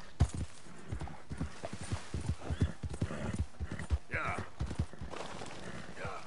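Horse hooves clip-clop in a quick gallop rhythm in Red Dead Redemption 2, close and steady, with a whinnying neigh rising near the end and a voice speaking over parts of it.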